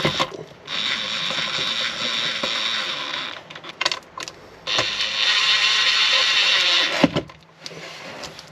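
Screw being threaded by hand into a threaded mounting bracket for a Renogy 20-amp solar charge controller in a van build, giving two long stretches of close, steady grinding and ratcheting with brief clicks and pauses between.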